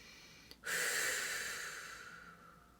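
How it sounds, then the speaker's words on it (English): A long, breathy exhale through the mouth during a vocal relaxation warm-up starts abruptly after a faint click and fades slowly over about two seconds, close and alone. "Let those exhales happen through the mouth and think belly to spine."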